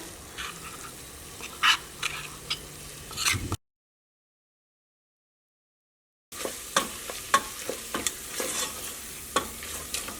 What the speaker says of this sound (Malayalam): ഇതാ മസാല നമ്മൾ ചേർത്ത് കഴിഞ്ഞിട്ട് നമ്മൾ ഒന്ന് ഇളക്കി കൊടുക്കാം